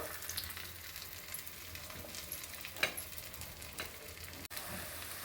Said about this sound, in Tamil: இந்த எண்ணெயிலேயே அது நல்லா வெந்துடும்